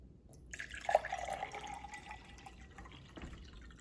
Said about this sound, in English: When I pour water into the glass, watch what happens.